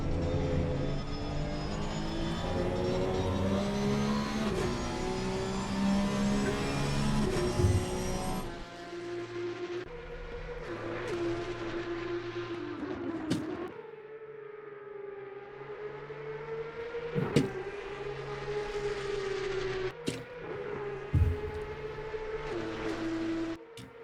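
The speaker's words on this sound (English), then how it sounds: "Lost in the sound there are those 2 4-litre engines. Absolutely biblical sounds from these 2 Porsches." Two Porsche 4-litre race car engines roar around the circuit at Donington Park, a loud sustained howl with shifting pitch, gear changes and sharp downshift blips as the cars pass close by.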